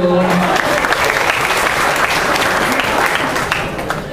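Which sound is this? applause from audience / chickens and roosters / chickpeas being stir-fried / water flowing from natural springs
applause from audience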